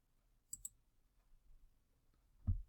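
A computer mouse gives two quick, crisp clicks close together in a quiet room, then a soft muffled thump follows a couple of seconds later.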